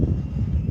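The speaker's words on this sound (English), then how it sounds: "we got another jetliner up there" A jetliner's engines drone in a flight simulator game, a short steady whine and rumble with no talk over it.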